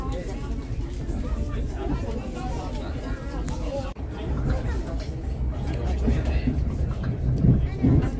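Rumbling train interior noise in Scotland as the train approaches Millport, with a steady low drone and rattles, people chattering in the background, growing louder toward the end.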